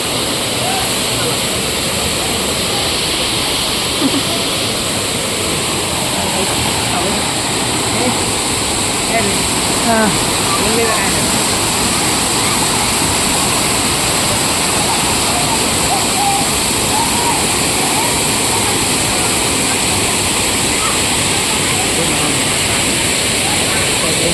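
Savdav waterfall in full flow, a steady loud broadband rush of falling water that continues without break, with crowd voices faintly mixed into the roar.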